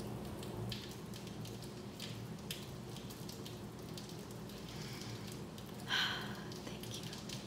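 Rain falls steadily outdoors as a continuous soft hiss with scattered drop patters and one brief louder splash, and no one speaks.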